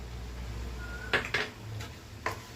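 A metal spoon scrapes and knocks against a cooking pot while spices and masala for paneer kurma are mixed, giving four sharp clinks over a quiet background, the first two close together.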